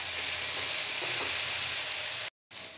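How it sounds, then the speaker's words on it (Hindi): Masala frying in oil on a medium flame for Indian chicken curry, a dense continuous sizzle close up that drops out briefly near the end and then resumes. "मसाले को तब तक फ्राई कीजिए जब तक ना इसका ऑयल अलग से दिखने लगे। मीडियम फ्लेम में इसे आप फ्राई करें।"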